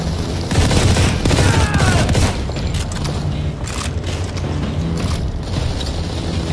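Heavy, sustained gunfire roars through a Modern Combat 4: Zero Hour battle, with dense overlapping bursts loud and close for the whole stretch and metallic clatter mixed in.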